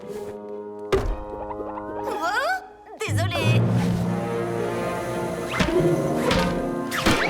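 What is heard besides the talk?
ball hitting hard in cartoon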